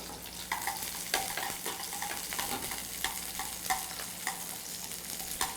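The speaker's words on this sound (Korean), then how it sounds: "양배추 볶아주시고요" Cabbage stir-frying in oil in a pan, a low steady sizzle broken by repeated sharp scrapes and clinks of a utensil tossing the shreds at an irregular rhythm, close and alone.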